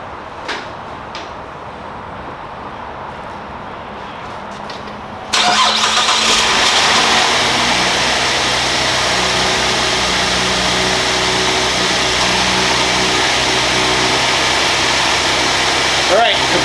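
A car with warm-blowing air conditioning cranks and catches after a quiet few seconds, then settles into a loud, steady idle with a constant hum, close by.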